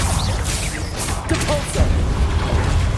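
Expelliarmus spell cast in the video game Hogwarts Legacy, a short burst of whooshing, crackling magic with sharp clanking impacts over a rumbling low undertone, lasting a couple of seconds.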